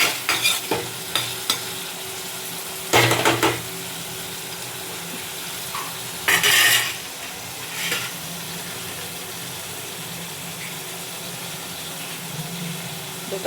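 Onion and tomato sauté in a pan for Tamil garlic-pepper kuzhambu, giving a steady low sizzle broken by a few louder bursts of stirring and scraping, with no voices.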